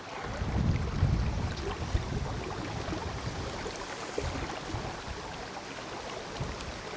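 Wind blowing by the River Vyrnwy on a fly-fishing afternoon, a steady rushing roar buffeting the microphone throughout with no talk.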